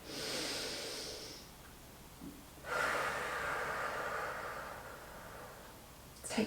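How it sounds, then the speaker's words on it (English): Deep, noisy breaths during a Pilates workout, a long hissing exhale followed after a pause by a fuller inhale-exhale, close and fairly soft with no talk. "Breathe deep."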